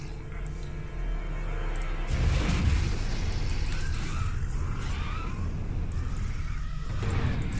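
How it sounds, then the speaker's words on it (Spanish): An ether explosion spell goes off in Warhammer: Chaosbane with a deep booming blast about two seconds in, followed by a sustained rumbling roar and crackling effects amid continuous game sound. "La explosión de éter."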